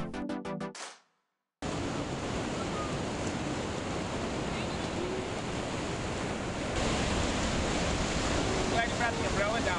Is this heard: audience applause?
no